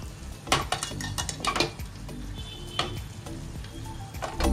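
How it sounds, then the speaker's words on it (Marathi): Pan of fish roe masala gently shaken by hand after the lid comes off, a series of close metallic clanks and rattles of the pan on the stove with a light sizzle underneath, no speech. "आता याचं आपण ना झाकण काढूया आणि हिला आता चमच्याने न हलवता फक्त अशी हलवून घ्यायची हळूच।"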